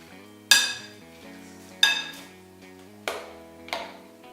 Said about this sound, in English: Now I'm going to stir it all up